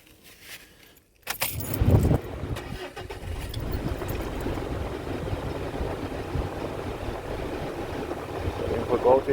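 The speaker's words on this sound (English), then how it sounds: "now we'll go and start the vehicle" A vehicle engine is started after a brief jingle of keys, cranking and catching with a loud burst, then settling into a steady idling rumble that rises slightly toward the end.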